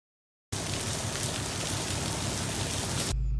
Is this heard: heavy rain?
yes